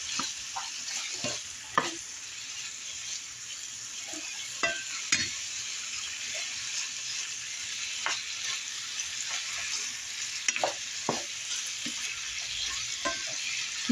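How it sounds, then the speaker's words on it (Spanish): Chorizo fries in a pan with a steady, close sizzle and crackle, broken by scattered sharp pops and the occasional scrape of stirring; no voices. "Vamos a pasar a freír nuestro chorizo"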